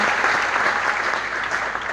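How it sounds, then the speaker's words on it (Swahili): An audience applauds church elders and servants of the Lord at a Kenyan worship gathering, a dense, steady patter of clapping sustained and loud throughout. "Tuwapigie makofi pia."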